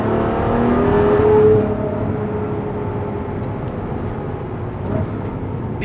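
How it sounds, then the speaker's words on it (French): A Ferrari V12 engine runs loud and close in a sustained roar, swelling briefly early on before settling into a steady, rumbling drone with no talk. "c'est un V12 Ferrari encore une fois"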